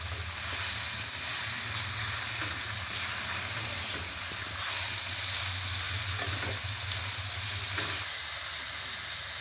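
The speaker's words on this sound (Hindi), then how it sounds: "तो चिकन ऐड करके हम इसकी अच्छी से भुनाई कर लेंगे" Chicken and chillies fry in hot oil in a pan, giving a loud, steady sizzle with occasional stirring scrapes throughout, no voices.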